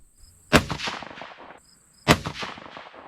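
Two rifle shots from a 6mm Dasher load at the range, each a loud, sharp crack followed by a rolling echo, about a second and a half apart, with no talk.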